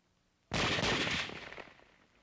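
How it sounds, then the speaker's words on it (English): A sharp burst of gunfire, like a short automatic volley, erupts after half a second of quiet and decays over about a second, from French Maquis resistance recruits training with firearms in 1944. "Maquis recruits are instructed in the use of firearms."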